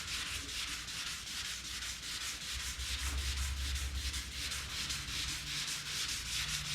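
A Z28 car fender is sanded by hand with a continuous rhythmic rubbing and scraping, steady and close, with no talking.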